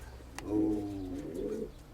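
Pigeons give a soft, throaty cooing call nearby, with a faint rustle in a quiet room.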